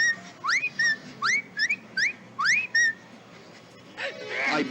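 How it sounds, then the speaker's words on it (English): Repeated whistled phrases in the video game The Spectre Files: Deathstalker, rising two-note calls sounding about eight times in quick succession, fairly loud and clear, ending in a burst of noisy sound. "I grabbed a stick and whistled a few times."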